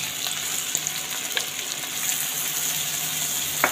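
Finely chopped onions with green chillies fry lightly in a pan for Punjabi-style bomb pakoras, giving a steady, close hiss of sizzling oil with faint stirring ticks throughout.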